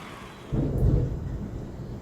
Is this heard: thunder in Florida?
yes